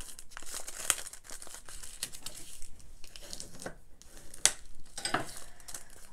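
A paper bag being folded into a junk journal pocket crinkles and rustles softly at close range, in irregular bursts of crumpling and light creasing.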